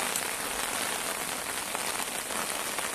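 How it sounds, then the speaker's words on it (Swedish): Steady rain patters on a surface outdoors, a dense continuous hiss of drops that stays even and fairly loud throughout with no voices. "det började regna"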